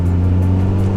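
A Mazda 323 GTR 4WD turbo engine pulls in third gear, a loud, close, steady low drone with a deep rumbling tone and no talk over it.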